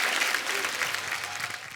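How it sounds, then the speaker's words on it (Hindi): A studio audience on The Kapil Sharma Show comedy program applauds steadily, dense clapping that fills the whole moment at a consistent, lively level before easing slightly at the end. "तालियां बनती है इस बात के लिए"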